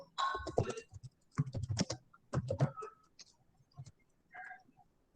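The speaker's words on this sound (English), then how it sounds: "For that we have to type pip install" Close keys clatter on a computer keyboard as a pip install command for the Flawfinder code-analysis tool is typed in a command prompt, arriving in quick uneven bursts with short pauses between runs of keystrokes.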